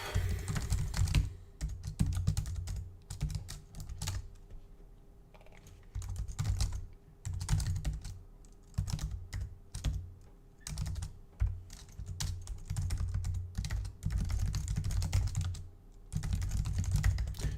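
Rapid clicking keystrokes on a computer keyboard in bursts, with brief pauses between runs of typing, close and clear, no talking.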